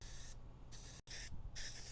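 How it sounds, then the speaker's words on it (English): Two short bursts of aerosol spray hiss, each broken into on-off puffs, close and steady with a brief pause between them. "I'm going to use a little spray over here."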